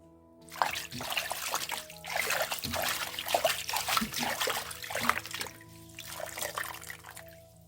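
Trimmed forget-me-not wild greens being rinsed in water, with steady splashing, trickling and dribbling sounds of hands swishing the leaves in a basin, close and continuous, with a faint tonal hum beneath.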